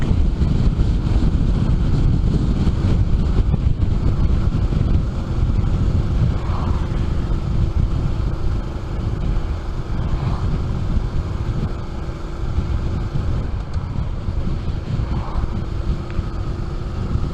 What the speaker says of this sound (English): all of a sudden the wind will catch you and you've got to react pretty quick